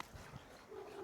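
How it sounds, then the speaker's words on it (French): A dog gives a couple of soft, quiet whimpers and a short low vocal sound, faint and close, with a brief whine at the end. "C'est mon chien qui rentre de balade,"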